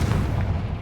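A Confringo fire spell explosion in the video game Hogwarts Legacy, a brief deep booming blast that stays loud and rumbling for under a second.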